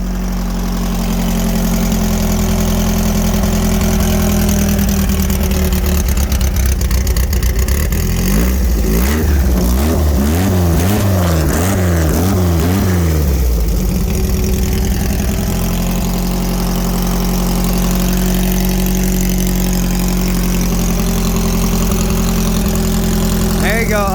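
VW-powered sandrail engine idling after a cold start, a loud low rumble that rises into a stretch of revving and settles back to a steady idle, with a person talking over it.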